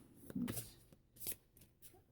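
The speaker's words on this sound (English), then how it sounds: "So you can see good shuffle." Tarot cards being shuffled close by in a few quick riffling bursts, soft and crisp, with short pauses between them.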